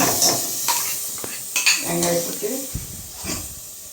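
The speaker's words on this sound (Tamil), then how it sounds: "இப்போ வந்து நம்ம அரைச்சி வச்சுருக்கிற தேங்காவை போடுறோம்" Ground coconut paste is added to a tomato masala for a bitter gourd curry and stirred in a pan, with clinks of a utensil against the metal and soft scraping over a faint sizzle.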